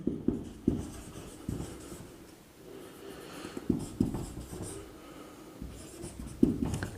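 A pen scratches across paper in short bursts and strokes, close and fairly quiet, while a maths example is worked out, with no voices.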